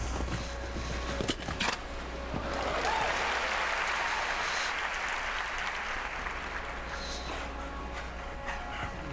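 Crowd at a show-jumping World Cup final in Las Vegas applauding a rider on course, a sustained wash of clapping at moderate distance that rises and then eases, with scattered knocks and faint hoof thuds.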